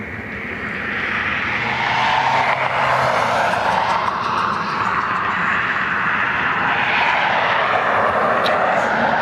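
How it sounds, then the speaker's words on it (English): An Aer Lingus Airbus A321 jet taxis out for departure at Cleveland Hopkins airport, a loud, steady engine roar and whine that holds throughout, with no gaps. "Shamrock 9 Lima Tango is taxiing out for departure. The Aer Lingus Airbus A321 will be heading back to Dublin"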